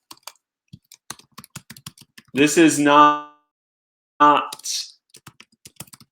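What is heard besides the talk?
typing on a computer keyboard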